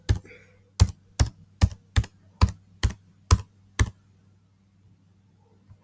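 Keys clack on a Chromebook keyboard, about nine crisp, evenly spaced taps close by, then quiet.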